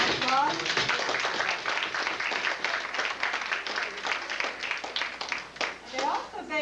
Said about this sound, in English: I believe they all deserve a round of applause.